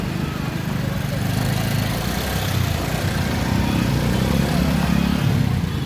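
A motorcycle idling on a rain-flooded road in Zirakpur: a steady low engine rumble held throughout, heard from nearby with street background noise.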